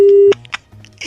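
Telephone call cut off with a disconnect tone: a steady electronic tone for about a third of a second stops abruptly, followed by faint clicks and line noise.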